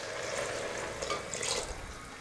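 Water pours steadily into a pot of soaked seeraga samba rice for vegetable dum biryani, a soft continuous stream close by with no talk.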